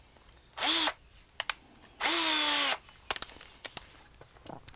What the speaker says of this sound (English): And then just drill a pilot.